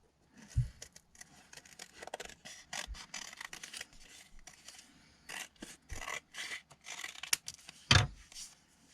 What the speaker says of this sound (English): Let's just cut these out.